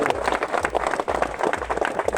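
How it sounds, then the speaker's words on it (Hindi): Congregation clapping for two pastors at a church gathering, a short burst of dense, rhythmic applause from a crowd, fairly loud and close. "उनके लिए तालियां बजाओ।"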